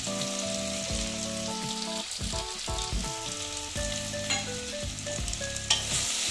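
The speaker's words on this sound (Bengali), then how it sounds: "আদা দিয়ে আবার অল্প ভেজে নিচ্ছি" Potatoes and ginger sizzle steadily in an oiled pan while being stirred, a continuous crackling fry running beneath background music.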